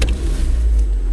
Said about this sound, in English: So I'll just show you how we start an LPG car.